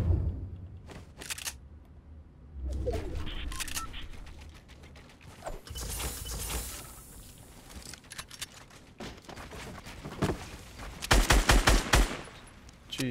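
Gunfire in a first-person shooter video game: sharp bursts of shots crack out in clusters, with a heavy rapid volley near the end, mixed with mechanical clicks and game effects.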